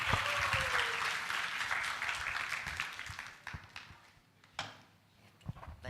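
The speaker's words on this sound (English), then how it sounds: "Give a round of applause." Audience applause welcomes Chen Chao, founder of USAPPS, at the USAPPS 2023 event: a loud, dense wash of clapping that swells at first, then gradually thins and fades into scattered claps near the end.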